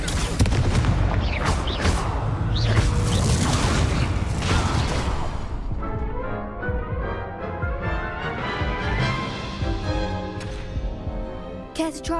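The Confringo blasting spell explodes in the video game Hogwarts Legacy, loud booming bursts and whooshes packed densely together, giving way to a ringing, tonal magical shimmer and softer impacts.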